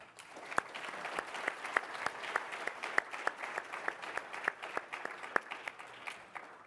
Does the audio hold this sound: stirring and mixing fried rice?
no